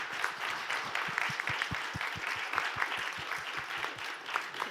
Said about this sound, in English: One final round of applause for the panelists and for yourselves.